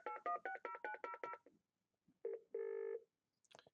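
Telephone dialing tones ring out in a quick series of about eight even beeps, then after a pause a short tone and a longer ring burst, as an inbound call comes through on Communicator phone software; clean and alone.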